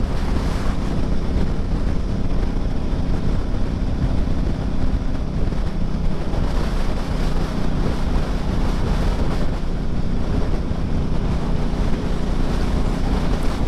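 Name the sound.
wind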